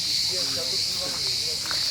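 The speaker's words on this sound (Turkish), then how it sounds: "Bence bu da kelebekten çok cırcır böceği var." Crickets keep up a steady, high-pitched chirring at a cove near Ölüdeniz, Fethiye, while people talk over them.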